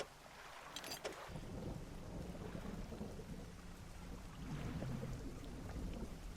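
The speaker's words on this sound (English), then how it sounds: "Thunder!" Thunder in the fishing video game Dredge: a sharp crack followed by a long, low rumble that rolls on under steady rain, heard without any talk.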